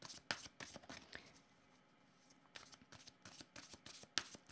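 Tarot cards being shuffled by hand during a French-language reading, a run of crisp riffling bursts and flicks, close and fairly quiet, pausing briefly in the middle before the rapid card noise resumes.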